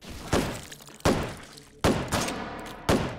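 Gunfire in the VR shooter Hot Dogs, Horseshoes & Hand Grenades, with four loud, evenly spaced shots, each a sharp blast with a short decaying tail.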